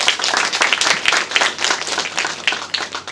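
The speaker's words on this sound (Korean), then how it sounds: "다시 한번 큰 박수 부탁드립니다" Audience at a forum applauding after a speech, dense rapid hand clapping from many people, steady and fairly loud across the whole stretch, with no voices standing out.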